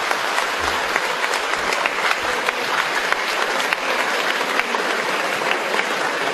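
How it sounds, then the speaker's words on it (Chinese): A theatre audience at a Suzhou Pingtan storytelling performance by the Shanghai Pingtan troupe claps loudly and steadily, a dense, sustained round of applause with no talking. "拍手再来一段"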